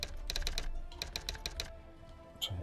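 Quick bursts of typing on a computer keyboard, close and crisp, with two clusters of rapid key clicks and a single louder key press near the end.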